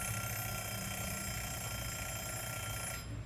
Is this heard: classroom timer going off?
yes